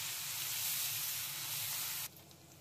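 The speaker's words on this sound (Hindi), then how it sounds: "प्याज को हमें अच्छे से भून लेना है।" Onions frying in a pan give a steady, soft sizzle that carries on evenly, then drops off sharply to a quieter hiss near the end; no voices.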